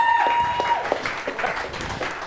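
Audience applause for Clan Aria at a fantasy dance competition, a steady wash of clapping from a crowd lasting a couple of seconds with scattered louder claps.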